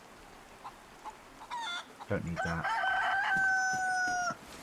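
A chicken in DayZ gives a few clucks and then a drawn-out crowing call in the foreground, while someone speaks briefly.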